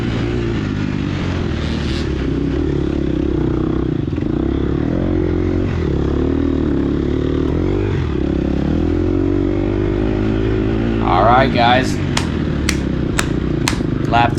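A Gas Gas EX 250F dirt bike engine drones loud and close through a hare scramble race, holding a steady throttle with slight pitch swells, then clattering knocks and scrapes near the end.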